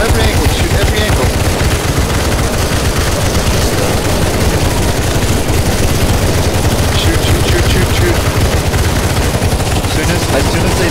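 Relentless automatic gunfire from many weapons during a CS:GO zombie escape round on a frozen tower map, dense rapid shots hammering continuously at full loudness with voices shouting underneath.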